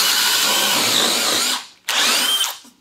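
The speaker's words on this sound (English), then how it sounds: "on high speed, we're able to drill right through the wood." A power drill on high speed whirs while drilling through wood, grinding steadily for about a second and a half, stops briefly, then bursts back on for another short run.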